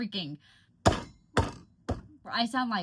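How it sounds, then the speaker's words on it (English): Three heavy, evenly spaced clunking high-heel steps inside a house, loud and close, with a voice making sounds just before and after them. "trying to walk around this house in some heels"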